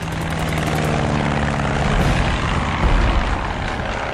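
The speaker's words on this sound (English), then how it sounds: "Black plane, wings swept back." A black swept-wing WWI-era German warplane drones overhead, its engine a loud, steady roar throughout that swells slightly midway, with no voices.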